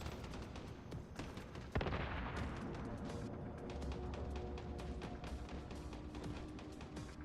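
Rapid shotgun blasts ring out in the video game Once Human, a dense, repeated volley of sharp reports over a rumbling combat background at fairly low level.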